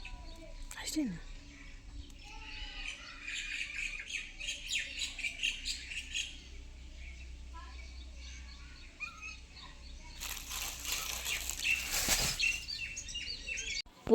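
Budgies, or lovebirds, chirp and squawk in bursts inside a pet shop. The sharp calls come in clusters, with a louder flurry near the end, over a low hum and faint indistinct voices.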